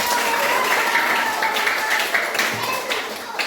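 Schoolchildren clap together in an elementary classroom during a lesson, a loud, dense, continuous patter of hands that lasts throughout, with voices mixed in.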